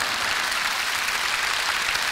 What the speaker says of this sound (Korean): 원래 박수가 좀 나와야 되는데